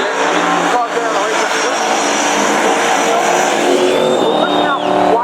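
Pro mod drag racing cars running at the strip, a steady loud broadband roar from engines throughout, with a rising whine near the end and some voices mixed in.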